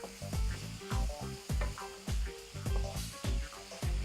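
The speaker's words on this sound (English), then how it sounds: "Let's stir that up." A seasoned mixture with pepper, truffle salt and garden herbs sizzles in a hot pan as it is stirred, giving close, rhythmic bursts of frying hiss and scraping roughly every half second, with no talking.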